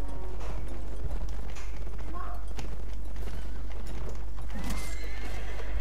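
In the Mount and Blade Warband video game, a horse neighs amid rapid clip-clopping hooves, all loud and layered over a dense clatter of battle noise.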